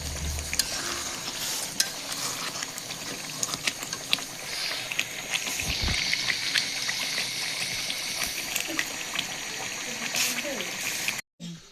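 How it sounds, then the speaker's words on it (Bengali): A roast cooks in a pan while being stirred, with steady frying sizzle and scraping stir sounds running throughout, a few brief clatters, and faint voices in the background. "আর এই তো এখানে রান্না করতেছি রোস্ট।"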